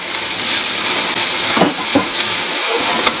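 Chili powder, turmeric and salt sizzle and hiss as they are stirred in a hot pan in a busy home kitchen, a steady frying noise with a few scrapes and clinks, no voice.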